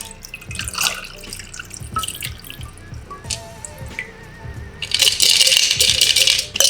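A shaken watermelon cocktail is poured through a strainer, ice rattling against metal and liquid dripping and splashing, ending in a louder rush of pouring; no talking.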